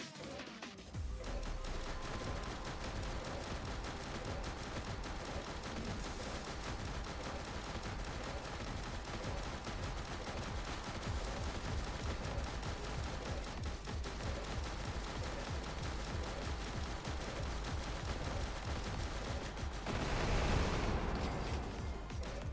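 Sustained automatic gunfire from a weapon in the video game Snezhinka: Sentinel Girls 2, a dense, continuous rattle of rapid shots running for over twenty seconds with no pause, swelling louder near the end.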